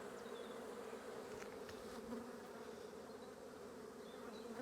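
Honey bees hum in a dense, even drone around an open colony during an early spring hive inspection, a faint, continuous buzz with no talking.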